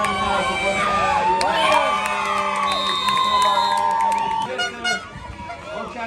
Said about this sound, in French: Quand vous entendez la foule qui hurle, ça vous met des frissons, ça vous galvanise